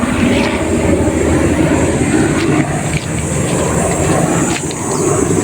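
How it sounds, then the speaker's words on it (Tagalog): A helicopter passes overhead outdoors, a loud continuous rumbling drone with beating rotor texture that stays strong throughout, slightly dipping midway. "may helicopter po yung mga business"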